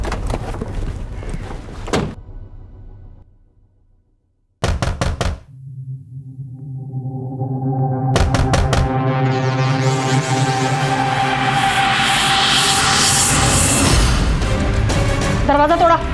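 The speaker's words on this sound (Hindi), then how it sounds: "दरवाजा तोड़ा।" A door is broken down with a few hard knocks and crashes, followed by a rising, blaring tonal sound that swells and stays loud to the end; no talk.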